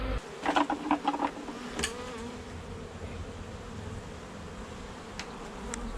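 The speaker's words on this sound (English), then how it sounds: "A lot of bees." Honey bees buzz at an open hive during an inspection, giving a steady close hum with a few louder taps and rustles near the start.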